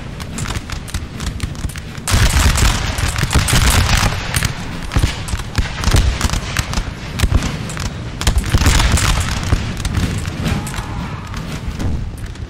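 Austrian infantry muskets fire in Napoleonic Total War 3, a dense ragged crackle of volleys and pops over a rumbling battlefield, loud and continuous with swelling bursts.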